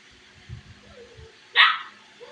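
A pet puppy gives a single sharp, close bark after a few soft low thumps, and the surroundings are otherwise quiet.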